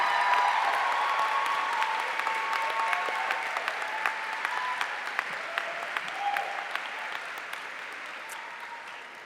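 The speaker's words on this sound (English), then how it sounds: "let's take a minute with a round of applause to thank your faculty" Sustained applause from a graduation audience at a college commencement hooding ceremony, thanking the faculty, with steady clapping that slowly fades across the span.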